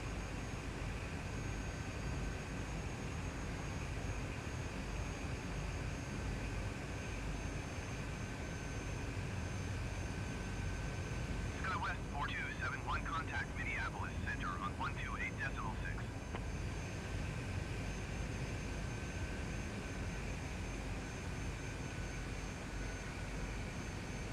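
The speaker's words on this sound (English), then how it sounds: "Yeah, we're taxiing too fast." Airliner taxiing on the ground in Microsoft Flight Simulator: a steady low engine rumble and whine at idle throttle, continuous throughout, with brief voice chatter partway through.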